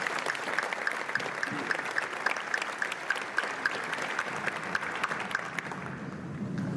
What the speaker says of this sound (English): Got another round of applause for our valedictorians and salutatorian.